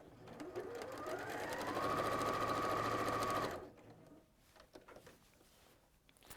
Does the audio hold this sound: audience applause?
no